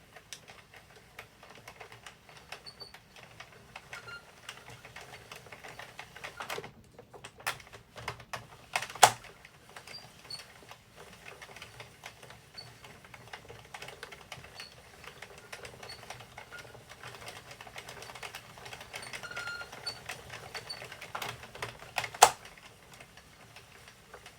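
An Addi King circular knitting machine cranked slowly while knitting a beanie, giving a faint steady clicking and ticking of needles throughout, close and quiet, no speech.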